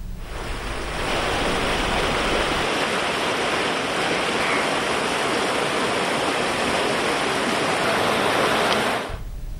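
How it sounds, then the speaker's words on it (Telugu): Floodwater on the Godavari river rushes downstream of a barrage in a loud, unbroken roar of churning water, close and steady for several seconds before cutting off, with no talking. "బ్యారేజీ దిగువన ఉన్న కోనసీమలో నదీ పాయలు జోరుగా ప్రవహిస్తున్నాయి"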